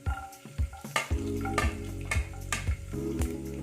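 Dried red chillies and garlic cloves fry in hot oil in a pan, a steady sizzle broken by rhythmic scraping and clinking stirring strokes, close up.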